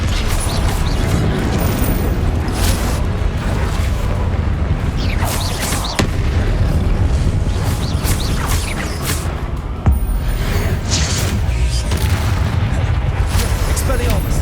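Confringo blasting spells in Hogwarts Legacy burst as repeated heavy booms, one after another at close range, with rumbling impacts and a voice calling out spells over the din.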